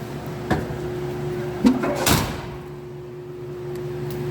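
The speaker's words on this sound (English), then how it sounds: "I love how nicely that door shuts." A car door shuts with a single solid, close thud over a steady low background hum.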